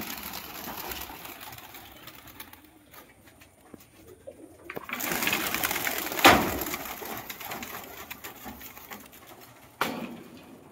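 Pigeons at a loft of around 300 high-flyers, cooing faintly after being released, with scattered rustles, a sharp burst of flapping midway and another brief clatter near the end, moderately quiet overall.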